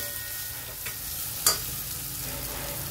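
Leftover idli mixture with masala is sautéed in a pan, giving a soft continuous sizzle with spoon stirring and one sharp scrape or clink near the middle.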